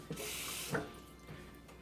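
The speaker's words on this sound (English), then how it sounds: "now we're just gonna add some water" Water is poured into a blender or container holding cilantro, lemon, red wine vinegar and oil for chimichurri, a short soft splashing stream with a faint burst partway through.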